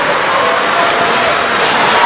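Randolph fans on their feet cheering at a New Jersey high school hockey final, a steady, dense roar of crowd noise and applause that holds loud throughout without a break.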